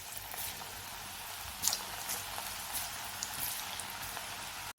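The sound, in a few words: bitter gourd slices frying in hot oil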